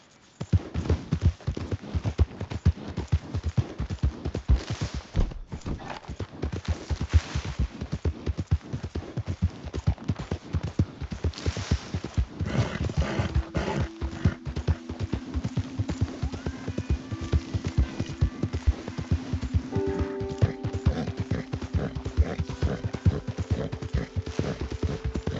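A horse gallops in Red Dead Redemption 2, hooves drumming in a fast, even clip-clop close by, with a low drone and faint game ambience running underneath throughout.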